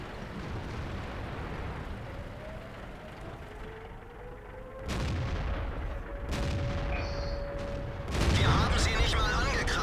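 Heavy tank cannon blasts in World of Tanks, a few loud booming shots at intervals over a steady rumbling battle backdrop with a faint whining tone, growing louder toward the end.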